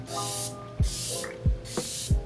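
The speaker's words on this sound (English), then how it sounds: "I'm gonna seal it all in with a setting spray." Makeup setting spray hisses out in three close, loud bursts, each a short airy spritz with a soft click of the pump between.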